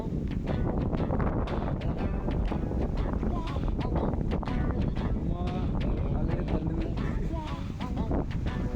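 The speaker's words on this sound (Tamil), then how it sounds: "சரியான காற்று." Strong cyclone wind roars and buffets against the microphone in a continuous gusty rush while a person talks underneath.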